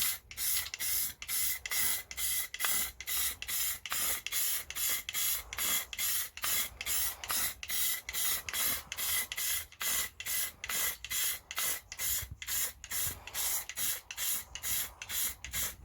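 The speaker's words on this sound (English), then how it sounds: "making sure I'm not spraying too much at the sides" Steady hissing spray gun laying etch primer onto the rear tub of a Series III 109 Land Rover, close and continuous with regular rhythmic pulses from back-and-forth passes.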